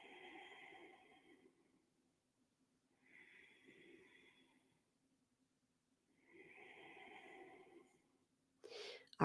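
Slow, deep breaths during a yoga session, three long breathy swells separated by quiet pauses, close and soft, with a brief louder rustle at the end.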